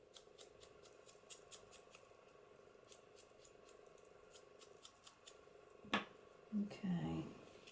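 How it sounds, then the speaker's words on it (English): Small scissors snip paper in soft, quick, irregular cuts, faint and close, ending with a few louder handling sounds and some speech. "Let's use the smaller scissors."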